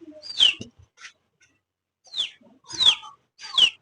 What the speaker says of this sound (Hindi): और ये हमारी चिड़िया